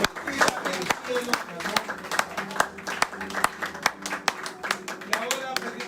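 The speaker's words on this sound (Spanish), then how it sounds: "Así que den un aplauso al Señor." Church congregation clapping during a service, distinct individual hand claps in a loose rhythmic pattern rather than a dense wash, with voices speaking over them.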